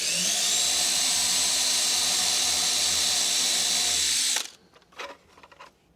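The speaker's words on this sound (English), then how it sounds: "We're gonna get one screw in first." A power driver runs steadily and loudly for about four seconds, driving a #4 by 1/2 inch panhead screw into an MPCNC router part, then cuts off abruptly, leaving faint handling clicks.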